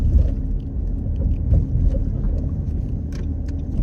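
Heavy, congested road traffic near a university, with buses, bikes and scooters, is heard from inside a moving car as a continuous low engine and tyre rumble, loud and steady, with occasional passing swells.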